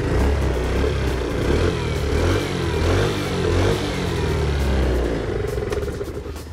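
A Suzuki Lets UZ50 scooter's small engine runs steadily at idle with no throttle, a close, continuous buzzing drone that tapers slightly at the end.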